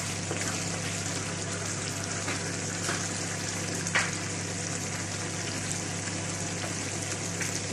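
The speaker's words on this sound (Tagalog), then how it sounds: "Ilalagay na natin yung first na gata." Pork Bicol express sizzling in a pan as the first coconut milk goes in, a steady soft frying hiss with faint splashes and clinks, moderately distant and quiet throughout.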